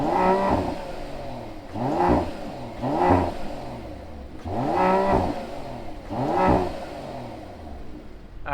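A 2021 Mercedes-AMG GLE 53 engine idling and being revved, with five or six loud rising blips separated by short settling pauses, heard close and alone.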